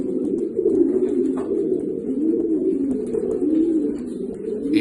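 Racing pigeons coo steadily inside a loft before the Barcelona race, their soft, rolling calls overlapping continuously at close range with no talking.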